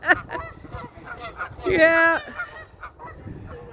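Geese at a bird sanctuary in Calgary honk loudly and squabble nearby, with a burst of harsh, overlapping calls in the middle, and a person speaks briefly over them.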